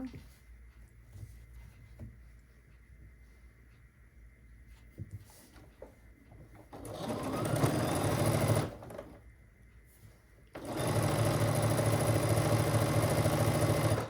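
A sewing machine stitches quilt fabric in two sustained runs, the second longer, with quiet handling and pauses in between.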